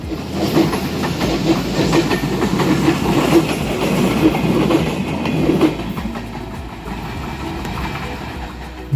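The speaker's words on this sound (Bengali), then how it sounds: "বর্তমানে বরেন্দ্র এক্সপ্রেস ট্রেনটি দুই সালের সাদা পিটি ইনকা কোচ নিয়ে চলাচল করছে" The Barendra Express runs with white PT Inka coaches and a Chinese luggage van on Bangladesh Railway, giving a steady, close rumble with rhythmic wheel clatter that continues without pause.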